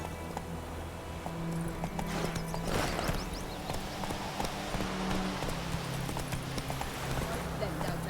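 Hoofbeats of Roach, a horse in The Witcher 3, thud steadily at a moderate pace behind a voice and game ambience, softening as the horse is reined in.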